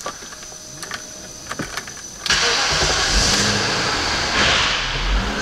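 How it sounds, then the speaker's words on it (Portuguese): A BMW car engine cranks with a few short starter bursts, then catches and runs, holding a loud, steady idle with a rev swell near the end, heard close up in a workshop without talk. "Agora eu vou fazer ela pegar."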